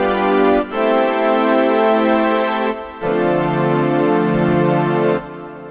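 UVI The Beast FM synthesizer playing an orchestral-style patch: three sustained, bright, buzzy chords with short breaks between them, loud and close with no voices.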